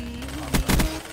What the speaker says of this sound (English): Fake shot me through the wall with a Vesper